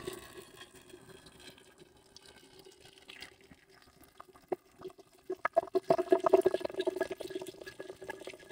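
Melted candle wax for a Clean Home fragrance candle is poured, starting as a quiet trickle and swelling into a louder, splashy gush near the end.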